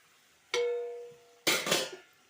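A metal spoon clanks against a pot while bottle gourd pieces are stirred into a sizzling tempering with green chillies, two separate bursts: a ringing clink, then a rougher scraping jumble, close up and moderately loud.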